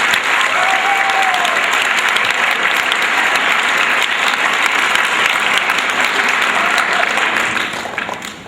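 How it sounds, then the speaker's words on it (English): A crowd at a ceremony welcoming home state soccer champions gives a big round of applause, dense sustained clapping loud and near that holds steady, with a few whoops, before tapering off. "I'd like to give them a big round of applause"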